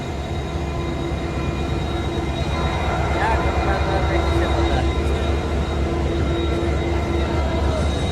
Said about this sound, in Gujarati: રિવેસ જાય એ ટ્રેન પહેલી વાર જોઈ મેં